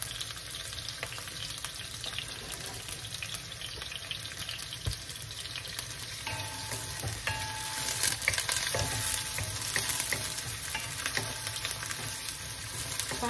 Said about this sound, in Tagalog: Lagyan na po natin ang sibuyas. Natin pong palalambot-lambutin ang sibuyas.